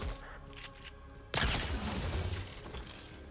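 A single loud video-game gunshot with a sharp crack and a ringing, noisy decay after a quieter tonal background.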